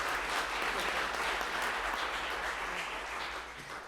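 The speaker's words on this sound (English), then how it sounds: "we want to give them a big round of applause for all that they do" Applause from the gallery at a city council meeting, a broad, even rush of many hands clapping at moderate distance that holds steady and begins to thin near the end.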